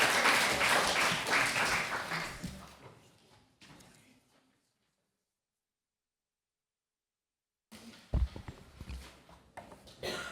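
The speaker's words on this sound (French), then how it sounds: "Il faut l'applaudir." An audience claps for a speaker called to the lectern at a speech competition, a dense burst of applause that quickly thins and dies into silence, followed by a few bumps and knocks near the microphone.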